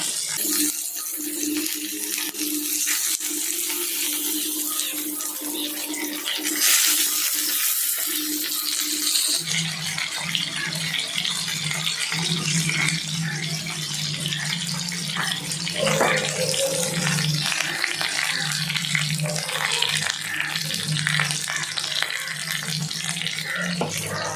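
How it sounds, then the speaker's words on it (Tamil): A whole fish fries in a pan with oil, giving a continuous loud hissing sizzle that runs close and steady, shifting in tone partway through. "மீன் நல்லா பொரிஞ்சிட்ருக்க"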